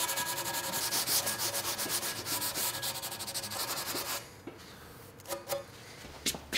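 Steady, rhythmic rasping of a hand file and sandpaper rubbing wood, feathering an edge into a 1/8 inch roundover on a table, fast repeated strokes that stop abruptly, then a few scattered scrapes.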